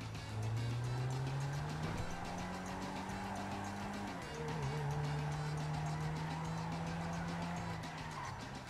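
A car in Grand Theft Auto V drives with a sustained engine drone and long tire squeals as it skids, the engine pitch dipping and climbing again midway.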